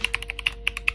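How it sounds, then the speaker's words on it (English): Quick, evenly spaced clicky keystrokes on a GK61 mechanical keyboard with yellow switches, close and crisp, about ten presses in a second with no talking. "We got the GK61 keyboard with the yellow switches."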